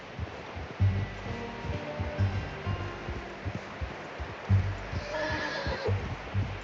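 A horse in the video game Red Dead Redemption 2 whinnies loudly nearby, with hooves clopping and shuffling and a soft rustling ambience around it.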